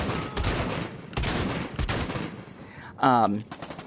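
Shotgun blasts ring out in a virtual reality first-person shooter played one-handed, several sharp bursts in quick succession near the start, then a short electronic tone toward the end.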